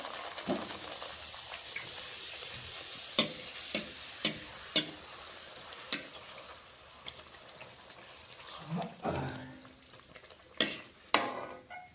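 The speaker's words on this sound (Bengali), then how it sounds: "সবগুলো লুচি এভাবে ভেজে নেব। দেখো কি সুন্দর ফুলেছে।" Luchi deep-fry in oil over a soft, quiet sizzle. Sharp pops and clinks break in every second or so, with a brief bubbling surge near the end.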